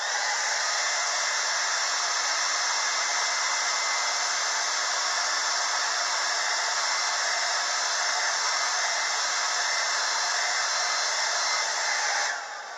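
A hair dryer blows on wet paint on a painting, a loud, steady, unbroken whir that runs alone for the whole stretch and cuts off abruptly at the very end.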